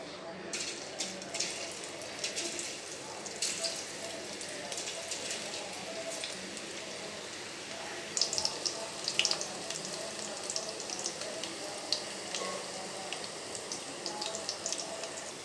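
Cabbage pakoda deep frying in hot oil, a steady close bubbling sizzle with crackling pops throughout, brighter bursts of spattering partway through.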